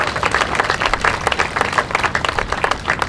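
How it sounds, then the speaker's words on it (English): Clapping from an outdoor Memorial Day ceremony crowd honouring servicemen, brisk and continuous with sharp individual claps throughout, fairly close and moderately loud. "So let's give a round of applause to those guys."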